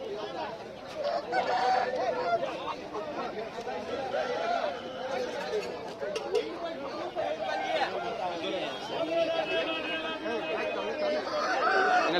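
Country chickens cluck and squawk in a dense, continuous din at a busy rural poultry and rooster market. Geese honk in places, under steady chatter from many people talking.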